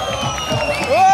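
An audience at a newspaper's third anniversary function, held for a DIG, breaks into applause and cheering. The crowd noise rises under a voice that is still speaking, with a whoop near the end.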